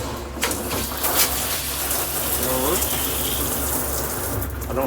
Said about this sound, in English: Shower does work.